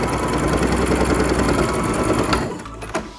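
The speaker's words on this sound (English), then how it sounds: "Again, we're gonna back stitch." Up close, a sewing machine runs a fast, continuous stitching whir while back stitching a fabric face mask, easing off briefly near the end.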